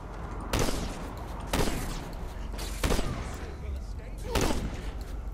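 Shotgun blasts in the Saints Row IV video game, four heavy booming shots spaced about a second or more apart over a low rumbling background of game noise.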